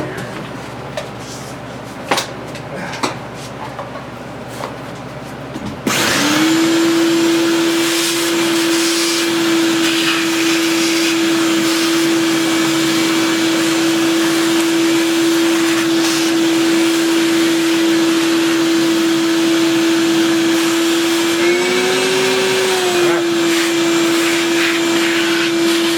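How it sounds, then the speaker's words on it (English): Vacuum cleaner switched on in a workshop after a few seconds of quiet clatter, then a loud, steady whine holding one pitch for about twenty seconds, with a brief shift in tone near the end. "I'm gonna get my vacuum cleaner here."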